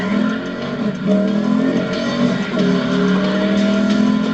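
A McLaren SLR engine revs loudly and continuously, rising and falling in pitch, close by and without speech.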